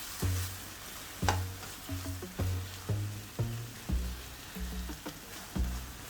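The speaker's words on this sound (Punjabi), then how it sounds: "ਤੜਕਾ ਆਪਣਾ ਹੁਣ ਭੁੱਜਿਆ ਆ" A tadka for chicken tikka masala cooking in a kadai, a soft sizzle under repeated rhythmic stirring scrapes and taps roughly once a second, close but fairly quiet.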